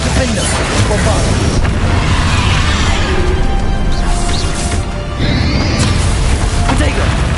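Fire and blasting spells are cast in the Hogwarts Legacy video game, producing dense, loud, continuous booming and crackling bursts that pile up over heavy low rumble, with a brief dip midway and no clear gaps.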